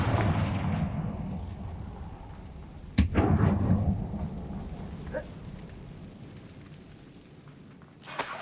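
A Confringo blasting spell erupts in Hogwarts Legacy inside an abandoned mine, a sharp explosive crack followed by a rumbling, decaying boom, with a fainter pop later and another hit near the end.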